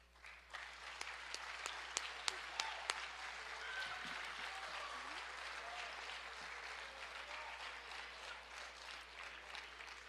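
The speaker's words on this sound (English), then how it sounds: "if you'll stand up, we'll give you a round of applause." Applause from a football banquet audience honoring the freshman team, starting with a few sharp distinct claps and then settling into a softer, sustained patter of clapping in a large room, fairly quiet and without talk.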